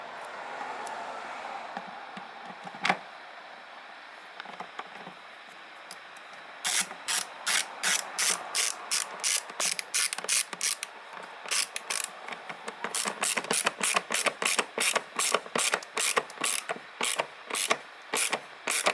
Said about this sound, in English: now I put the torque T20 socket again in it, and we're gonna tighten this bolt up